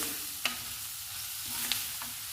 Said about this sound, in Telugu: ఆనియన్స్ జీలకర్ర ధనియాల పొడి అల్లం వెల్లుల్లి పేస్టు అన్నీ ఫ్రై అయ్యాయండి